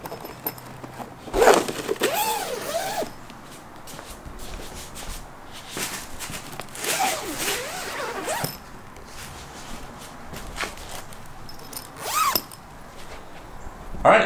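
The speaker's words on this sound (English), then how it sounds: "You can see this zipper. I'm gonna unzip." A zipper on the packaging of a Nectar bed frame headboard is pulled open in several long rasping runs with pauses between them, close and fairly loud, accompanied by some handling rustle.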